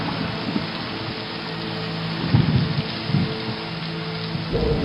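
A storm effect of steady, dense rain hissing on a surface over a river at night, with low thunder rumbles swelling around the middle and again near the end, no voices present.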